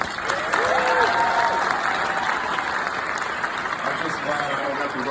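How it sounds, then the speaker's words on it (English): Loud, steady applause from an audience at an Illinois House Speaker's oath of office and inaugural ceremony, dense and sustained throughout with faint crowd murmur mixed in. "Can we give my wife a round of applause?"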